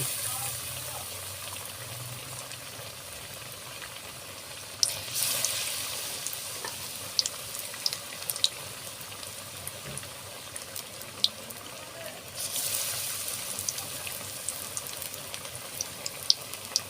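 Batter-dipped lentil chicken chops frying in hot oil, a soft continuous sizzle that swells in two louder hissing bursts as pieces go in, with small scattered pops and crackles in between.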